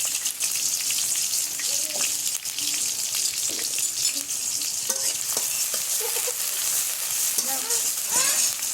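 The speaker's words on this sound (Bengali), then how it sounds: "পেঁয়াজগুলো ভালোভাবে ভেজে নিতে হবে" Onions frying in hot oil in a wok for tehari, a steady dense sizzle with occasional stirring scrapes, close and loud throughout.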